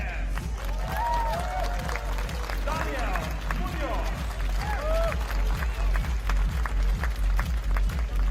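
A crowd at the Den Bosch 2019 archery world championship compound finals claps in a steady rhythmic beat, mid-distance and sustained, with spoken commentary and whistle-like cheers over it.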